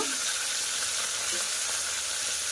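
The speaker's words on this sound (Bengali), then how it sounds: "তার জন্য মাছগুলোকে ভাজা করে নিচ্ছি। আজকে ভেটকি মাছটা রান্না করব" Pieces of bhetki fish fry in hot oil with a steady, close, even sizzle and crackle that holds for the whole stretch, with no voices.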